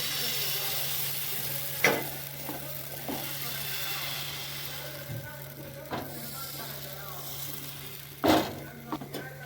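Rice flour pitha batter, a Noakhali regional specialty, sizzles steadily in a hot pan, a continuous frying hiss with a low hum beneath and a few brief clatters.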